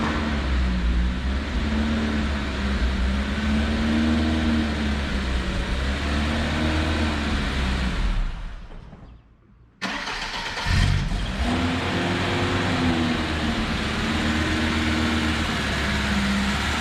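A lowered Lada car's engine runs steadily and loud, cuts out briefly, then is restarted and continues idling and revving, with no voices over it.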